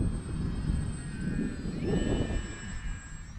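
An FMS PC-21 Pilatus RC model plane passes slowly with landing flaps fully down, its electric ducted-fan engine giving a steady whine that shifts in pitch as it goes by, over faint outdoor rumble.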